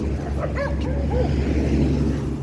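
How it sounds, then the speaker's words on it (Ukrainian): A husky, seen roaming as a stray near a city street in Skopje, lets out a few short yelping barks and whimpers early on against steady outdoor background noise. "Ще тут отакі хаски ходить"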